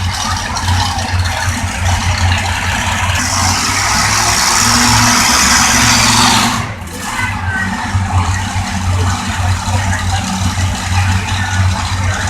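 Loud alcohol-fuelled tractor engines roaring at a county fair tractor pull, a heavy continuous rumble with rattling, swelling louder midway then dipping briefly before resuming.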